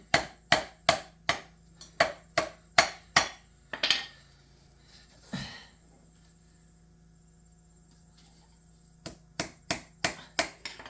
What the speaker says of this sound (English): The rivets come with a guide nail, so he's pounding it down in.